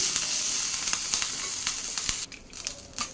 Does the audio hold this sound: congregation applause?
no